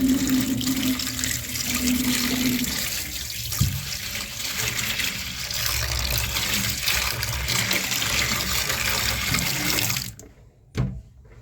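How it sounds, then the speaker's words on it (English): Tap water runs steadily into a kitchen sink for dish washing, a close continuous splashing rush that stops near the end, followed by a couple of faint clunks. "then you run the water"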